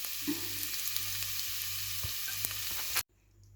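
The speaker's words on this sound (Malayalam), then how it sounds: "ഞാനത് ഇതിൽ കൂടെ ഇട്ടൊന്ന് നമ്മളൊന്ന് വറുത്തെടുക്കുവാണെങ്കിൽ അതിന് കുറച്ചുകൂടി ഒരു ടേസ്റ്റ് ഉണ്ടാവും അപ്പോൾ ഇതൊന്ന് വറുത്തെടുക്കാം ഇതിലിട്ടിട്ട്" Vermicelli roasting in hot ghee in a pan gives a close, steady crackling sizzle with faint stirring scrapes, stopping abruptly near the end.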